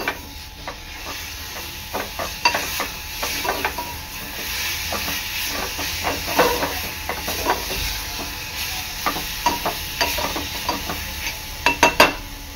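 A spoon scrapes and clinks through eggplant bharta in a frying pan, irregular taps over a steady low sizzle and hiss, close and fairly loud, no talking.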